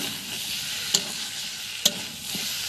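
Chicken sautés in a pan with a soft, steady sizzle, close by and fairly quiet, with two sharp clinks of a spoon against the pan.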